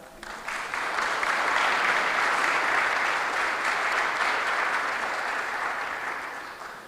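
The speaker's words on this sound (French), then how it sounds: "par applaudissement, nous saluons votre présence dans la salle" A hall full of delegates at a Central African public enterprises forum breaks into dense, sustained applause welcoming government ministers, rising quickly and holding steady for several seconds before tapering slightly.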